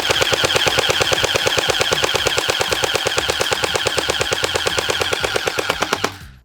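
An Elite Force H&K MG4 airsoft machine gun fires one long sustained burst, a rapid even rattle of close, loud shots that cuts off near the end.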